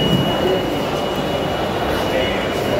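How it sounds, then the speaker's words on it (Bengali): Ambience on a platform at Coimbatore railway station: a steady, loud rumble and hum of trains and the station itself, with crowd voices murmuring underneath throughout. "তো এটা হলো কোয়েম্বাটোর রেলওয়ে স্টেশন"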